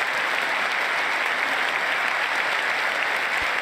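Sustained, dense applause and cheering from members of Congress fill a large chamber during a State of the Union address, a steady roar of clapping hands without pause.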